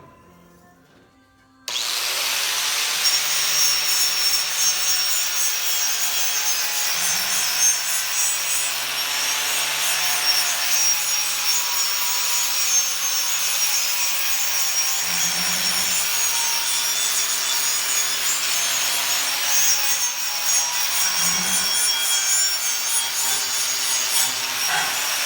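An angle grinder works steel for a firewood dolly, cleaning up a cut and stripping paint before welding, a loud, steady, sustained grind that starts abruptly and runs on with slight dips in pressure.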